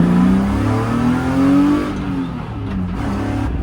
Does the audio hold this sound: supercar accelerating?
yes